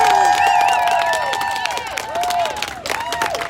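A crowd at an outdoor political rally in Baltimore cheers and claps, with loud sustained noise, whistle-like tones and voices shouting across the clip.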